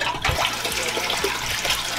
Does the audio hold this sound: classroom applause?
no